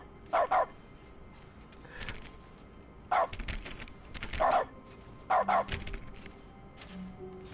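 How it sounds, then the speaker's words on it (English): Cartoonish dog barks from dog mode in The Stanley Parable, three short bursts of barking spaced a couple of seconds apart, each set off by a mouse click, with soft clicks and thumps between them. "every time I click anything it just barks"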